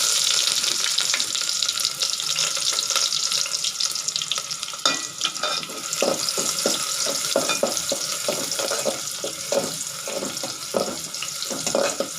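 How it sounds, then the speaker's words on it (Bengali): Chopped onions fry in hot oil, a continuous hiss of sizzling that turns into rhythmic stirring scrapes and clatters in the second half, fairly close and without talk. "তেলটা গরম হয়ে আসলে কেটে রাখা পেঁয়াজ"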